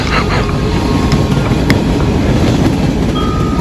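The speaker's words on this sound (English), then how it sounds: "this is the West Point train showing back up to Richmond" CSX local freight train on the West Point line near Richmond, a steady loud rumbling roar of the passing cars with wind buffeting the microphone throughout, and a faint tonal squeal near the end.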